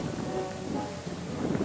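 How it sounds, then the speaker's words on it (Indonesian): Strong wind on a hilltop near a church and Marian grotto, a continuous gusting roar buffeting the microphone with no voices. "Angin di atas tempat ini sangat kencang."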